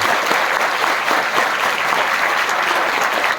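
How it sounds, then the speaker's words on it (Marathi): An audience claps together at a bharud folk performance, a dense, sustained burst of applause that stays loud and even from start to finish. "एकदा टाळींचा प्रतिसाद आला पाहिजे"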